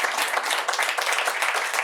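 A studio audience applauds four guests at the close of a discussion on future dentistry, producing a dense, even wash of clapping that stays loud and steady throughout the short burst.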